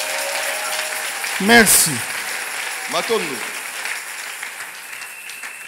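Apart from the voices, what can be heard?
congregation applauding and acclaiming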